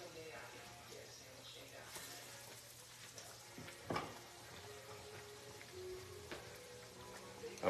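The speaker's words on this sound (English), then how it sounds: "I'm just gonna fry those little last ones right now" Short ribs or small patties of batter sizzling steadily in a pan, a soft continuous crackle with occasional louder spits, while someone talks over it.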